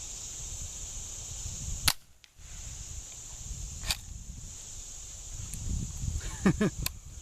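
Remington 597 .22 semi-automatic rifle firing Super Cobra ammunition outdoors: two sharp, separate cracks a couple of seconds apart, followed by faint clicks and handling noises under a steady insect-like hiss.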